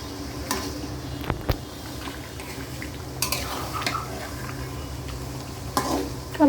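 Spicy chicken pieces being stirred in a sizzling pan, a steady fry hiss broken by scraping and a few clinks of the spoon against the metal.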